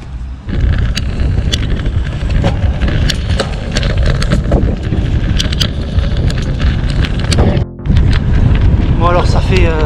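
Strong headwind buffets a cyclist's microphone on a gravel bikepacking ride in Flanders, a loud continuous rumbling roar with gusty fluctuations and a brief dropout near the end, broken by faint clicks.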